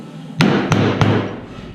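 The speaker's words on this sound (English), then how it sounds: "we're going to use the rawhide mallet to hit our tool" A rawhide mallet strikes a jewellery forming tool three times in quick succession, each a sharp close thump followed by a short ringing tail, with no talking.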